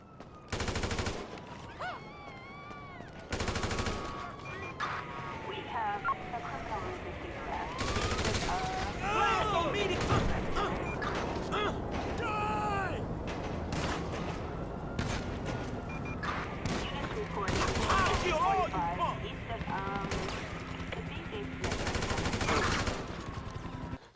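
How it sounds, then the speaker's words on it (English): Bursts of gunfire in GTA 5 as cops and civilians are shot, sharp repeated shots and rapid volleys across the whole stretch with sirens and commotion, under someone talking. "I'm just going absolutely apeshit and causing chaos by shooting up the cops and the civilians."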